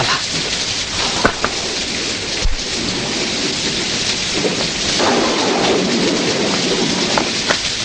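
Heavy rain pours in a dense, loud, steady hiss, broken by sharp cracks and deep rolling thunder, with no voices heard.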